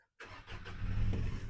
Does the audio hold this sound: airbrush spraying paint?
no